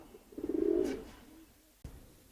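A pigeon in a loft gives one soft, rolling coo nearby, followed by a faint rustle and a small knock.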